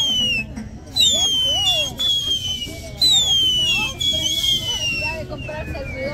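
Several whistling fireworks shriek with long descending whines, one after another, over an excited crowd and shouting Spanish voices outdoors.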